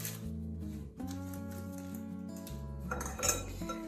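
A utensil stirring cocoa, vanilla and milk into banana tart cake batter in a bowl, producing close, ringing metallic clinks and scrapes in uneven bursts with sustained tones between strokes.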